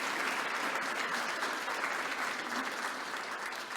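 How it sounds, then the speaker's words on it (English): Conference audience in a large concert hall in Glasgow applauding, a steady, dense roar of many people clapping at once, sustained evenly with no talk over it. "I wonder if we can have applause to prove to everyone online that we're here."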